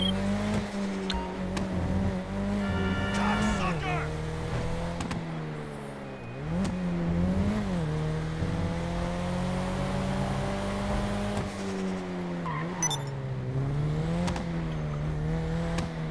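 A Nissan Skyline GT-R, built up as Brian O'Conner's car in the video game GTA V, drives with a continuous engine note that rises and falls through gear changes and revs, loud and up close, with no talk.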